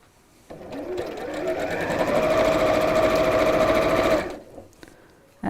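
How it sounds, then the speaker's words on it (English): A sewing machine runs one continuous close stitching burst of about four seconds as the second side of a seam is sewn down, starting and stopping cleanly with quiet pauses around it. "just sew down the second side here"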